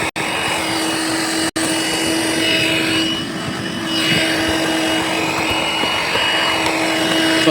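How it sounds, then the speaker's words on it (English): A small Makita vacuum cleaner runs continuously at close range while cleaning rust on a caravan pop top, giving a steady whining motor drone with a constant tone and two brief dropouts near the start. "So I've got this little Makita vacuum."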